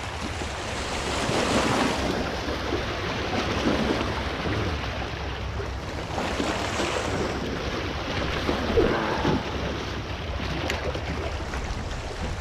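Ocean waves wash steadily over rocks along a rocky shoreline, with a continuous surging roar and swells building and easing under light wind noise.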